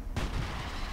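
A single sharp gunshot from the tactical military shooter game Project Reality cracks out loud and close, with a short rumbling tail trailing off behind it.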